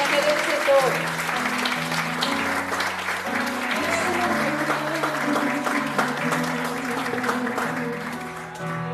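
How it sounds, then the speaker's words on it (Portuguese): A church congregation applauds during a Portuguese-language celebration service, steady crowd clapping layered over sustained worship music with held keyboard notes. "Se você quiser aplaudir esse Deus"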